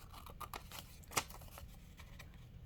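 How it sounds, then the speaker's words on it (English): Scissors snip a corner off a sheet of paper folded corner to corner, one sharp distinct cut standing out briefly over quiet handling rustle, close and fairly soft. "And now I am going to cut out one of those corners."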